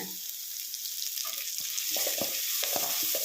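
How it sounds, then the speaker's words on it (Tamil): Ground cumin, black pepper and broken dried red chillies sauté in hot oil for tomato rasam, a bright hissing sizzle that builds and thickens, with soft scraping and stirring clicks over it. "அரைச்சி வச்ச ஜீரக மிளகு, கிள்ளி வச்ச வரமிளகாய் எல்லாம் போட்டு வணக்கிக்கோங்க"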